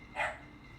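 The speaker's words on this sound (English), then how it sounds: "Is that a dog or what is that noise?" A single short, faint dog bark sounds in the distance over a steady background hiss.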